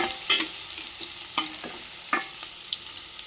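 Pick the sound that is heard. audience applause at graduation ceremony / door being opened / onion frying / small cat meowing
onion frying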